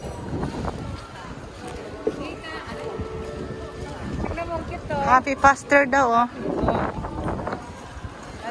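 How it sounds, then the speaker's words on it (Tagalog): Steady outdoor wind rumble runs beneath casual conversation among several people, with a brief sung or drawn-out vocal passage partway through. "Ang hangin."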